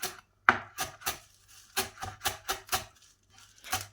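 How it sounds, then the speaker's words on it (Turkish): A knife finely chops parsley on a cutting board, a quick run of sharp, close taps in irregular bursts with brief pauses between them. "Şimdi maydanozlarımı incecik doğrayacağım"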